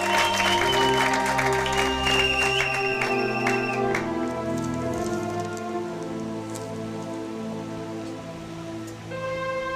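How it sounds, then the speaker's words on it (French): A church congregation applauds in praise of God, a dense, steady crackle of clapping that fills the room, with sustained organ or keyboard chords ringing underneath throughout. "Acclamez pour la gloire de Jésus-Christ de Nazareth"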